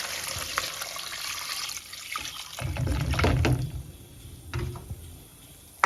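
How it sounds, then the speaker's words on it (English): Water pours and splashes into a cooking pot holding washed pork and fresh bamboo shoot, running steadily then trickling in bursts, close and moderately loud. "we'll add some water"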